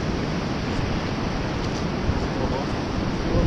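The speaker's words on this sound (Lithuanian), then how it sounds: "Jis vėjas nėra lygus." Gusty wind by the sea, a loud dense broadband roar buffeting the microphone with slight surges, a voice faintly under it.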